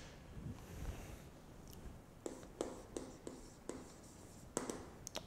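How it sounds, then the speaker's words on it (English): Pen or marker writing on a board while sketching a diagram during a lecture on the five lemma: short scratchy strokes and taps in an irregular rhythm, faint and close, with no talking. "we start by drawing the diagram again"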